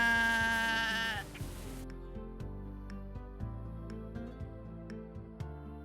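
Sheep on a Kentucky farm, a loud bleat at the start followed by quieter farmyard sounds with scattered faint knocks and shuffling, no talking.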